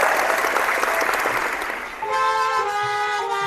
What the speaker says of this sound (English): Can we get a hand clap?